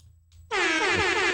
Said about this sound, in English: that's an air horn